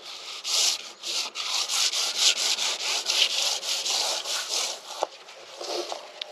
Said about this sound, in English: and sand some paint.